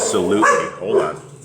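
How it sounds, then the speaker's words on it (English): Dogs bark a few times close by, loud and overlapping a voice as he talks. "sorry for the dogs"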